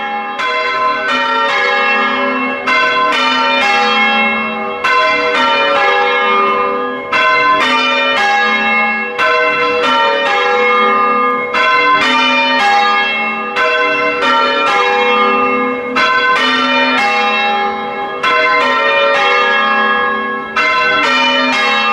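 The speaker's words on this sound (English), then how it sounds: "And bell ringers still come to ring them." Church bells of St John's in Hackney pealing in continuous rounds, rung by hand by a team of bell ringers, loud and close with overlapping strikes and long ringing tones throughout.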